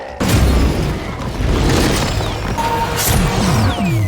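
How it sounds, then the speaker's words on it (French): An explosion erupts during a fight in the film Captain America: Brave New World, a heavy booming blast with crashing debris and rumbling low end, followed by sustained cinematic noise and scattered impacts. "ce qui provoque une explosion."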